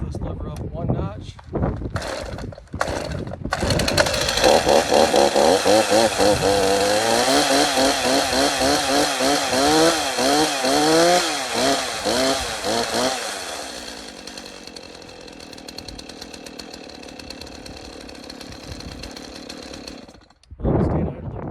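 A chainsaw with its chain stuck on the bar is pulled to start, catches after a few short bursts, then runs at a loud, wavering roar before settling to a quieter idle. Speech is heard at the start and again near the end.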